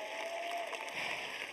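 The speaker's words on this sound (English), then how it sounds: "Big round of applause." Audience at a talk applauding, a steady wash of clapping with faint cheers, fairly soft and distant for a brief moment.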